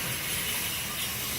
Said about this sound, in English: the steam just came on